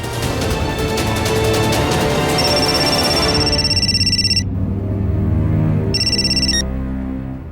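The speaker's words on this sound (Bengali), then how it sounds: "মা তোমার কি হয়েছে আমি বাবাকে ফোন করছি" A telephone rings on an outgoing call, a repeating electronic ring tone that sounds in bursts with gaps, loud and close over a steady background of music or ambience, with no talking.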